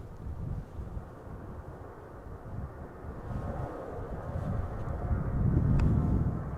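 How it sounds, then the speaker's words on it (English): A BA Embraer 190 airliner approaching at Schiphol Airport, a low rumbling engine roar that grows gradually louder as it nears, buffeted by wind noise. "Now the BA Embraer 190 is coming this way"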